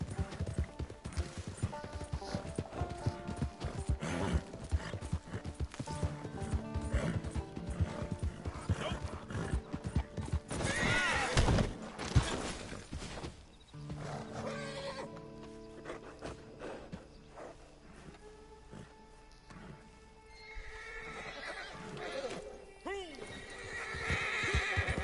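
Horses in a PS4 video game whinny and clip-clop, with loud repeated hoofbeats and neighs throughout and someone talking over them.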